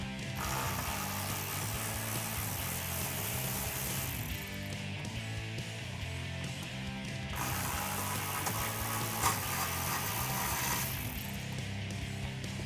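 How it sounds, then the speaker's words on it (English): Ratchet wrench with a 7mm socket loosening exhaust bolts on a 2016-2023 Camaro, repeated clicking pawl strokes in continuous bursts with short pauses, close and clear with no talk. "So I'll get a 7mm socket to get these off."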